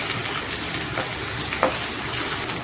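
Steady, loud sizzling of onions with curry leaves frying in hot oil, with occasional stirring scrapes over the constant crackle.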